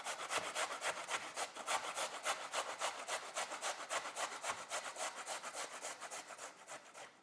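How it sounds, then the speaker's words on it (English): Cabbage shredded on a cheese grater for kraut-chi, a steady run of rhythmic rasping strokes, about three per second, close and loud with no talking. "you can just simply grab your cheese grater"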